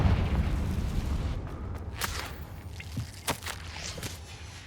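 Blasting-spell explosions of Confringo in the fantasy game Hogwarts Legacy, several sharp bursts and booms over rumbling ambience and footsteps, with no talk.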